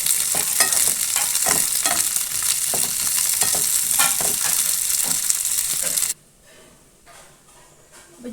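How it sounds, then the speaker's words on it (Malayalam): Okra fries in oil in a pan with a lively sizzle broken by repeated stirring scrapes for about six seconds, then the sound drops away to near quiet. "ഒരു ചട്ടിയിലേക്ക് കുറച്ച് എണ്ണ ഒഴിച്ചുകൊണ്ട് വറുത്തെടുക്കണം"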